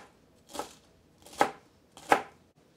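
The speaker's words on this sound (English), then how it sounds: "I did get another stalk of celery, and so we will get this one chopped up" Knife chopping through a celery stalk on a cutting board, three separate sharp chops spaced well apart, close and clear with nothing else heard.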